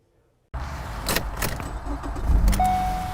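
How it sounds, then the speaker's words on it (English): Morning school-day traffic on a parkway: a steady roadside wash of passing cars that swells as vehicles go by close, with a faint high tone near the end. "morning traffic looks like this on Glen McConnell Parkway"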